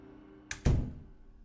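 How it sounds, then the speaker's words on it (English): A door shut firmly in a Junji Ito style horror video game, heard as a single close, solid thump with a faint click just before it, then a short fading rumble against a quiet background. "Cautiously, I stepped through the threshold and firmly closed the door behind me."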